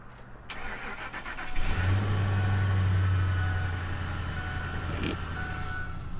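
A 2004–2010 Ford F-150 engine with a cam phaser problem cranks briefly and catches about a second and a half in, then settles into a steady, rumbling idle heard up close with no talking.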